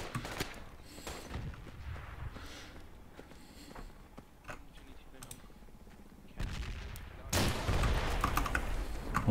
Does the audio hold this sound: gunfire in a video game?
yes